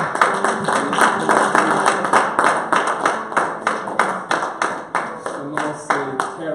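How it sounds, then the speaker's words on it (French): A church congregation claps steadily in time to welcome a newcomer at a Sunday service, crisp regular handclaps close and loud over a musical backdrop. "Si on peut ensemble l'accueillir avec des acclamations."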